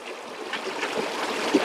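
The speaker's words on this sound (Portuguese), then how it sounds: "Água corrente. Água limpa." Clear water of a small river running over stones and sand, a soft continuous burbling and trickling close by, with gentle splashy peaks and no voices.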